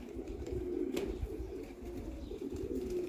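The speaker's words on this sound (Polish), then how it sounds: "Cukróweczka sinogarlica, u nas to mówi się na to sinogarlica." Eurasian collared dove cooing in a garden allotment, a low, soft repeated call over steady background noise, moderately near.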